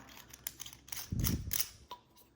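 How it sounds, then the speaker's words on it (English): The top of a refilled spice grinder is screwed back on, giving a run of close, dry plastic clicks and scrapes with a brief low rumble of shifting contents partway through. "You just take the top, you screw it back on"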